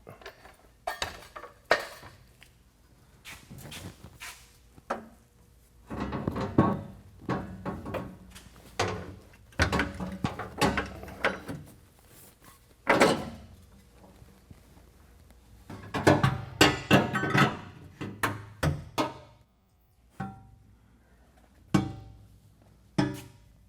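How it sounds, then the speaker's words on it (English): Metal clanks, knocks and rattles come in irregular bursts as the factory muffler assembly is worked off the exhaust of a 2019 Ram 1500 5.7L V8 after its support is removed. The sounds are close, with short quiet gaps between them. "Now we're going to go ahead and remove our support and work the muffler assembly out."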